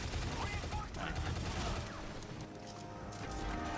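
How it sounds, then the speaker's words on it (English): Gunshots are fired in the video game Shadow Complex Remastered while it loads, heard as dense crackling bursts within a loud, busy game mix, with faint talk beneath. "it fires a shot as the game's loading"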